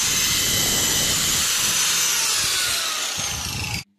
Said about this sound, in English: so then that needs grinding down now with the flap disc